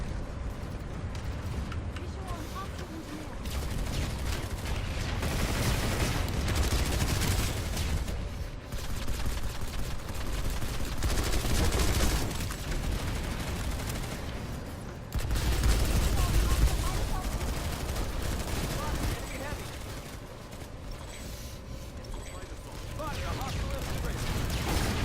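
SMG gunfire in a video game, dense sustained bursts of rapid automatic shots filling the whole stretch with brief dips between sprays, loud and close.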